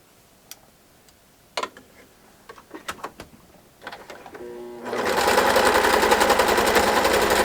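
Sewing machine stitching a doll quilt, first a few scattered clicks and taps, then a loud, close, rapid run of stitching for the final seconds.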